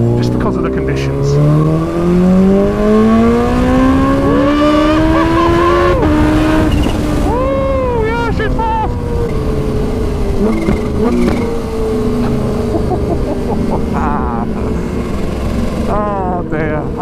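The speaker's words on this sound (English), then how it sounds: "Oh dear, I love all the noises this bike makes, all the little chips, all the little chirps," Kawasaki Ninja H2 supercharged motorcycle under way, its engine pitch rising and falling through gear changes with chirps and whistles of the supercharger, loud and close over steady wind rush.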